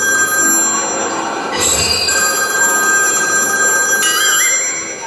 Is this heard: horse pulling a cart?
no